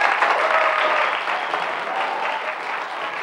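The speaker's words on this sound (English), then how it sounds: "And a big round of applause for Mr." Steady studio-audience applause on a live Saturday-morning children's TV show, dense and fairly loud, continuing without any voices over it.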